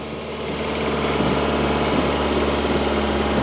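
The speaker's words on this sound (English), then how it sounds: "Just start her up. Start it up. You just start her up." A Proton Impian car engine idles with a steady, loud mechanical hum and rattle that swells slightly as it settles and then holds even with no voices.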